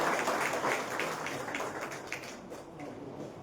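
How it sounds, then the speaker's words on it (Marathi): Audience applause fills an outdoor award ceremony honouring teachers, a dense, steady patter of many hands clapping at once that slowly thins toward the end. "एकदा जोरदार टाळ्या वाजवून बापूंच्या ठिकाणी आपण कौतुक करूया"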